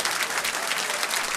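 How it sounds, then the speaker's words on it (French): Dense, steady applause from a bal musette audience, cheering young accordion players at a dance evening; close and continuous throughout. "Vous pouvez les applaudir une autre fois parce que ça fait plaisir de les voir"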